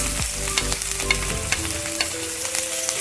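Capsicum, carrot and beans stirred around a hot pan for chop suey, a steady close sizzle and frying hiss with scraping spatula strokes and clinks running throughout.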